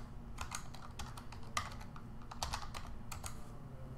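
Someone types a username and password on a computer keyboard, with quick irregular key clicks close by and a brief pause midway. No one speaks.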